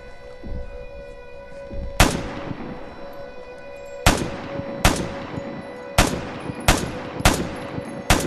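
Gunfire in the video game Vigor: sharp single shots, first a lone crack and then a faster irregular string of reports, loud and close over a steady background hum.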